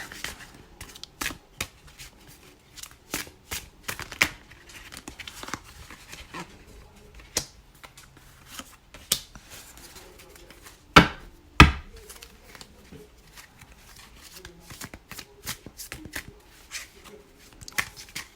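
Steampunk Tarot cards by Barbara Moore being shuffled, a close run of crisp, irregular card riffles and snaps across the whole stretch, with a couple of louder slaps midway.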